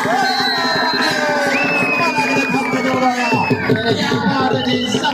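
Spectators at an open kabaddi match cheering and shouting in a loud, continuous roar of crowd noise with whistles and whoops, nearby and unbroken across several seconds.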